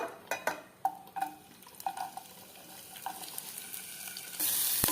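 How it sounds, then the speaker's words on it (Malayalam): Long-sliced onions frying in hot sunflower oil give a soft, steady sizzle, with a few clinks and scrapes of stirring near the start and a louder burst of hiss at the end. "ഇത് ചൂടായി വന്നതും അതിലേക്ക് നമ്മൾ നീളത്തിൽ കട്ട് ചെയ്ത് വെച്ചിരിക്കുന്ന സവോള ചേർത്ത് കൊടുക്കാം"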